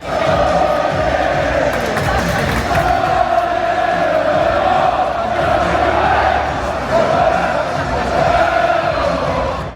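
A Burnley football crowd chants and roars at Turf Moor, a loud, broad wash of massed voices that holds steady throughout with slight swells.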